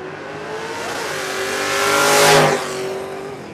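A 1964 Ford Ranchero drag car with a 302 small-block 5-liter V8 races past at a drag strip, its engine note building as it nears, peaking loudly mid-pass and then fading away.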